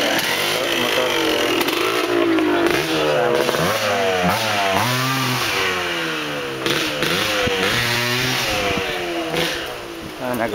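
A motorcycle engine running loud and close outdoors by a beach cottage, revving up and down in repeated rising and falling sweeps, with voices speaking faintly beneath it.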